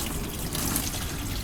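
Diesel fuel draining out of an engine sump after a flush, a steady liquid trickle with faint dribbling texture, close and continuous for a brief moment.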